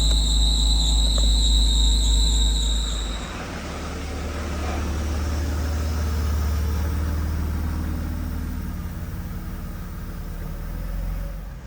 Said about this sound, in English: Oh, that serpentine belt is having a hard time.